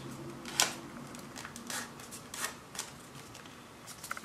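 Paper creased and folded for origami, crisp rustles and sharp crinkling snaps scattered irregularly close by, no voices.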